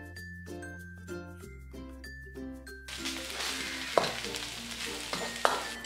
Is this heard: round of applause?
no